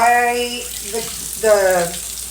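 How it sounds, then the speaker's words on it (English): Running tap water splashes over a dish being washed at a sink, a steady close wash of water with a voice talking over it. "I'm washing this dish and talking to you."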